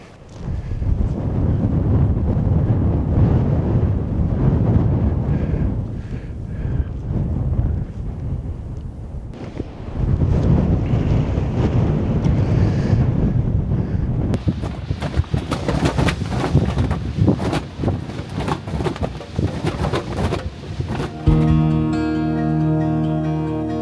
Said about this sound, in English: It's become windy again. It started becoming windy now.